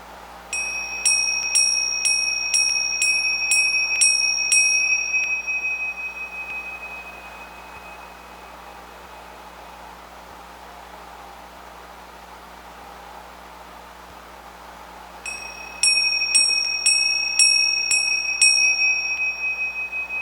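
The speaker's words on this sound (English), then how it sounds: "let's ring the bell on it" A small bell is rung in rapid bursts of repeated bright strikes, its ringing tone hanging on and fading to near silence before a second burst of quick strikes returns, heard close and alone over a faint hiss.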